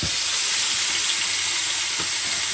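Chicken wings in a bourbon BBQ seasoning rub pan-fry with a steady, loud, close sizzle, and a couple of faint clatters sound from the pan.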